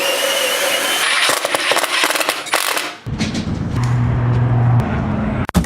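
Wood is sawn in a garage, a loud, rapid rasping of strokes for about three seconds, then a quieter stretch with a steady low hum and a few clicks.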